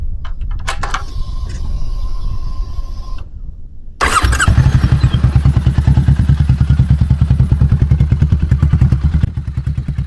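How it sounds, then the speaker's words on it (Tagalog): A big bike motorcycle fitted with a Rebel Arrow full exhaust: quiet clatter and a brief start attempt, then the engine catches and settles into a loud, steady, throbbing idle close by. "Okay, sound check natin itong bike."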